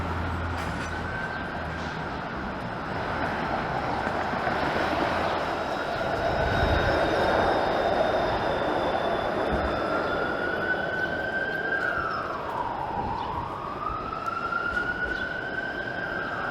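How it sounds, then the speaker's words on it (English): A Toronto streetcar passes along Queen Street East on a downtown April street, its wheels squealing through a rising and falling metallic tone over steady rumbling rail noise and city traffic, loud and close for most of the pass. "That streetcar will be going to York and King."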